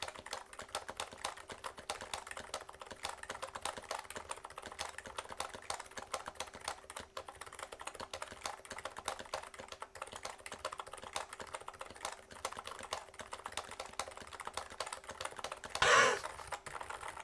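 Steady, fast typing on an HHKB-style mechanical keyboard fitted with EC (electro-capacitive) switches, a dense run of soft, even keystroke clacks at close range with one louder thump near the end and no talking.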